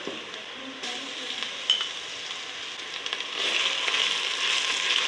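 Steady frying sizzle of garlic and ginger added to browned onions in a pan, with occasional stirring scrapes and clinks, the hiss growing louder and denser toward the end.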